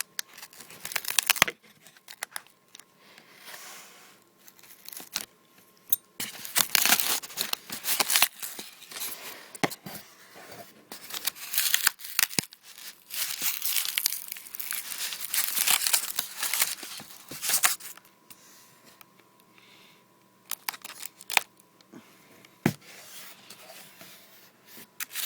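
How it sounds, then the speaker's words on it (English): Packing tape peeling and crinkling off the plastic packaging of a Hasbro Force FX Kit Fisto removable-blade lightsaber toy, with irregular bursts of ripping, rustling and handling noise that swell in the middle and taper off, close and fairly loud. "let me get some of this tape off here"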